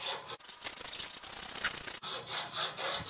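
Hand filing on a forged steel cutlass blade: steady, rhythmic rasping strokes with brief pauses between passes, close and fairly loud, no voices.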